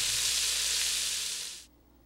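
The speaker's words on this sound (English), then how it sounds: "yes, I'm stirring it up again" Food sizzling loudly in a pan as it is stirred, a dense continuous hiss held close for over a second before it cuts off abruptly into near silence.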